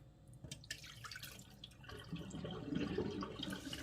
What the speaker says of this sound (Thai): เปิดน้ำเอาร้อนกว่านั้นอีก